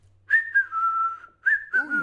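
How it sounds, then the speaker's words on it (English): A person whistles a short tune alone, a few sustained notes broken by brief pauses, clear and close. "whistling."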